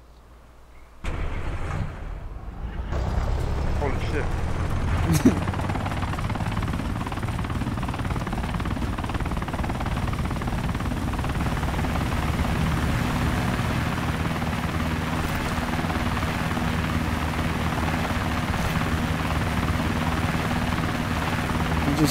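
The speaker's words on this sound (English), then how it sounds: "That's a fucking big ass plane." A large aircraft in Arma 2 DayZ starts up with a sudden roar, then holds a loud, steady engine drone that continues close by, with a brief louder knock early on.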